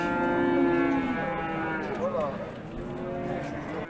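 Cattle at a livestock market in Kastamonu, Turkey, give a loud, sustained moo up close over steady crowd and market noise.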